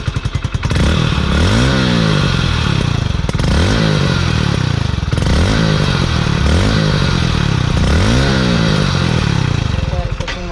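A Hero Splendor BS6 motorcycle fitted with a modified Euro 1 exhaust idles close by. It gives about five sharp throttle blips in a regular rhythm, each revving up and dropping back loudly with a clattering exhaust note.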